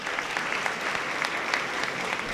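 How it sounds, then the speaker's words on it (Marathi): Loud, dense applause from an audience at a public lecture in a Ganesh festival setting, a continuous wash of clapping sustained for the whole stretch without voices on top. "त्यांच्या या व्याख्यानासाठी पुन्हा एकदा जोरदार टाळ्या होऊन जाईल"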